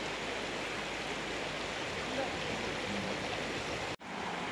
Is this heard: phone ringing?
no